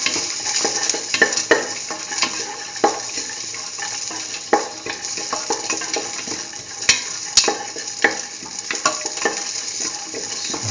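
Garlic pieces with salt frying in a pan, a continuous close sizzle broken by scraping stirs and occasional clinks of a utensil.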